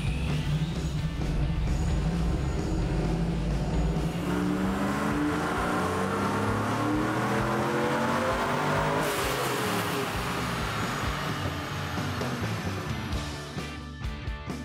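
The supercharged engine of a Chevrolet Trailblazer drift truck revs hard and loud, pitch sweeping up and down repeatedly through a sustained roar before easing off near the end.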